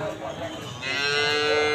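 Cattle low at a livestock market in Pekunang, a sustained bellowing moo that rises and grows louder midway, heard close over a busy, murmuring background.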